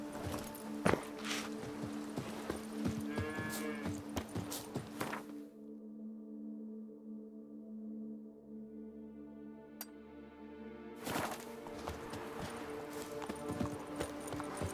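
Roach the horse's hooves clip-clopping in The Witcher 3 open-world game, a steady rhythmic walking clatter with low ambience; the hoofbeats drop out for several seconds in the middle before resuming.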